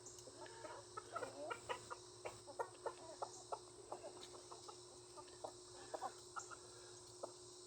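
Chickens cluck and chatter in short irregular bursts over a steady hum and insect buzz, faint and fairly distant, in a farmyard with turkeys and Cornish cross birds.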